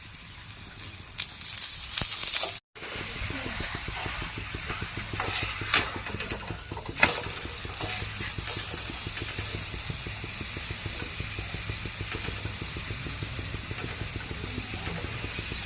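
An aloo paratha fries in white oil on a hot pan, giving a steady close sizzle and hiss with a light crackle throughout, broken by a brief silent gap near the start.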